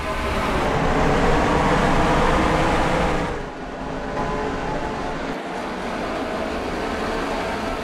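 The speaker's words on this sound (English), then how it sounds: "we're racing here at the Atlanta Motor Speedway" Xfinity Series stock cars race at Atlanta Motor Speedway in a racing video game, a loud, dense engine roar that holds steady and then drops slightly partway through.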